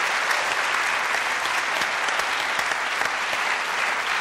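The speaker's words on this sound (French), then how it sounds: "Applaudissements du public." Steady, dense applause from a studio audience on a French TV variety show, loud and continuous throughout without a break, no voices rising above it.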